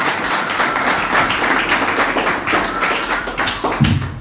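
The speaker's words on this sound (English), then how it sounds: "Can we clap hands for him one more time?" An audience claps together in a dense, sustained round of applause, close and lively, with a brief thump near the end.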